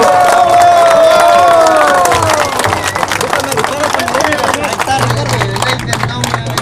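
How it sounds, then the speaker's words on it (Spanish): Crowd at an outdoor Morena political rally in Balancán for López Obrador, cheering and clapping loudly and close, with shouts and a sustained roar of voices throughout. "le brindamos un fuerte y caluroso aplauso"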